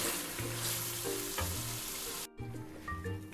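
Mutton pieces with masala fry steadily in a pan, giving a continuous close sizzle with occasional stirring scrapes and a brief break partway through.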